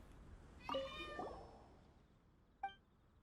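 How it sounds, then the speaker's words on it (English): A fierce little kitten in Genshin Impact gives one drawn-out meow, then a short, sharp second mew. Both are faint and stand alone over quiet background ambience. "that's a fierce little kitten"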